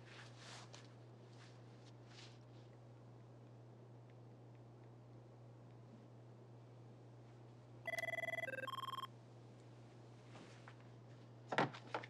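A telephone rings once in a quiet room, a short electronic trill of two alternating tones against a steady low hum, followed by faint clatter of handling.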